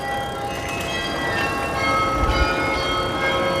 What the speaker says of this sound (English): these sounds of the bells, they add to the experience, making it even more special